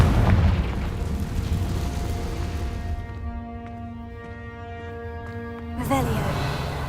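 A Confringo fire spell from a Harry Potter video game bursts with a deep, rumbling boom, then a sustained tonal ringing that hangs and fades before a second burst near the end, loud and close.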